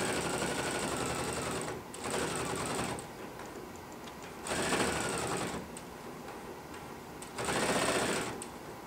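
A Pfaff sewing machine fitted with a binder attachment stitches a hooded bath towel in steady whirring runs, stopping and starting several times with short pauses between the bursts.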